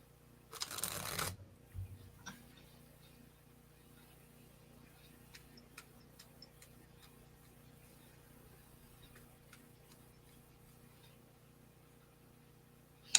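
Cards being shuffled during a tarot reading: a brief loud riffle near the start, then soft scattered flicks and taps of cards over a quiet background hum.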